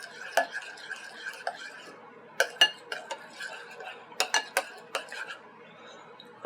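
Spoon stirring salt and pepper into corn puree in a pot, with irregular scraping clinks and taps against the pot at close range, no talking.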